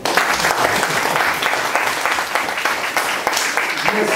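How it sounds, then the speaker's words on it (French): Sustained audience applause for a reader at a public reading event, dense steady clapping from a crowd lasting the whole stretch with a few murmured voices underneath. "On peut l'applaudir."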